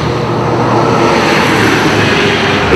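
A Lufthansa airplane passes overhead in Cape Town, a loud, steady, close broadband roar of engine noise that fills the whole stretch without pause and with no voices over it.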